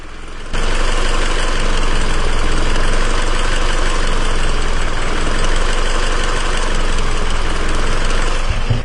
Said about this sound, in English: we'll let you get a listen to this loping idle